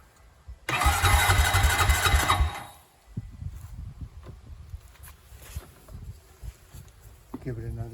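An ATV engine cranks and briefly catches with a loud, rough burst of revving, then dies back to low rattling and handling noises; a voice is heard near the end.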